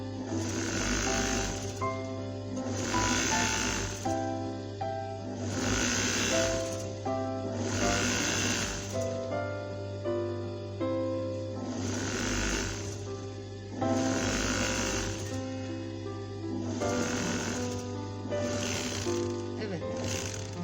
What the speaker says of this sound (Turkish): Evet çalımızın kenarına dört etrafını da biz makinamızda overlock çekiyoruz.